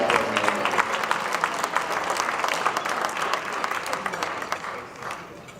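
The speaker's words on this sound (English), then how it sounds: "I do want to acknowledge the loud crowd over here, which is our own St. Mary's volleyball team" Loud, sustained applause and cheering from a St. Mary's volleyball team in the crowd at an alumni awards ceremony, dense clapping that holds steady for several seconds and then eases slightly toward the end.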